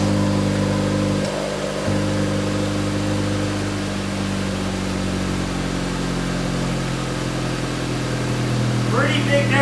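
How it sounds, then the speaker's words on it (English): A 2024 Acura Integra engine idles steadily in Sport Plus mode, its exhaust valves toggling with a brief low-frequency shift early on; a continuous close, loud drone with a faint chirp near the end. "you can hear the toggle between the valves"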